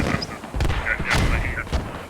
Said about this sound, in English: Neil takes a direct mortar hit.